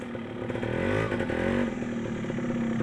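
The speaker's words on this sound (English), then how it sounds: "The only access is by motorbike" A motorbike engine on a rural road in the Democratic Republic of the Congo, running loud and close with a steady drone that rises in pitch as it revs, plus some rattling clatter.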